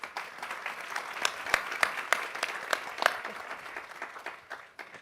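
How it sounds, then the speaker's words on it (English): Audience applause at a 2022 sustainability summit, steady clapping from a crowd with a few sharper individual claps standing out, tapering off toward the end. "Please give them a round of applause"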